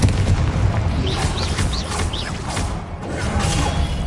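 Confringo blasting-curse explosions in the video game Hogwarts Legacy, booming and crackling amid a dense, continuous wash of combat effects, with sharp whooshing spell bursts repeating throughout.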